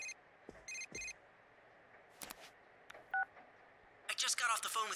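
Phone tones in the Persona 4 Golden video game: short electronic beeps and a brief ringing tone in separate bursts, followed by a busier chime near the end, all fairly quiet over a low background.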